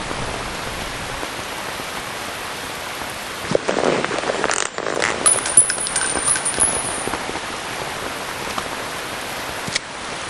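Steady rain hisses down in the video game Metal Gear Solid 3, a continuous soft wash with a few brief clinks and splashes midway.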